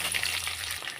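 Chopped onion frying in a hot pan with oil for breakfast, a continuous close hiss and sizzle with no voices.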